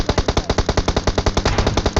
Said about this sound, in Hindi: तभी हम पे जो है बहुत गंदी वाली फायरिंग होती है